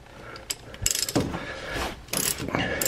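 A ratchet turning a number 8 hex socket on a Ram truck's differential fill plug gives several quick bursts of clicking, close and fairly loud, with short pauses between strokes.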